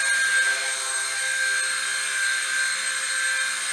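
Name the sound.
WLtoys V922 RC helicopter hovering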